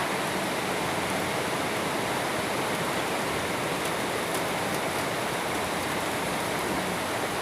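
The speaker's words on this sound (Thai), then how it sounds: "ไปข้างนอกก็ได้ฝนตกจ้า" Steady rain falling around a house in Khemarat, Ubon Ratchathani, a dense, even hiss that lasts the whole stretch with no voices over it.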